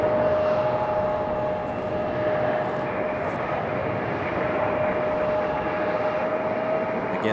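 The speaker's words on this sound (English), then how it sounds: "Beautiful brand new A220 on the move for JetBlue." A brand-new JetBlue Airbus A220 taxis at Raleigh-Durham International Airport, giving off a steady, unbroken engine roar with a thin high whine held throughout, loud and alone with no talk.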